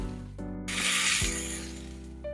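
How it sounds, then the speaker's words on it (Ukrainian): Buckwheat and minced meat patties (hrechanyky) frying in a pan give a bright sizzling hiss that swells for about a second and then fades, over a steady tonal background. "Так само обсмажуємо решту гречаників"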